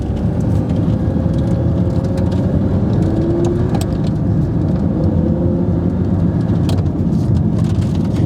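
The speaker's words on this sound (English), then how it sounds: "Nice to drive the car again after a couple of months." Turbocharged Lamborghini on the road in winter, heard from inside as a loud, dense, steady engine and road roar throughout with no pauses.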